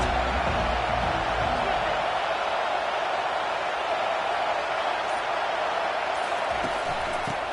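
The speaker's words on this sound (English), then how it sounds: "They challenge this crowd to bring the energy, and I'd say they're doing that." A college football stadium crowd roars during a Colorado versus Ole Miss game, a loud, steady wall of broadband cheering that holds without pause for several seconds.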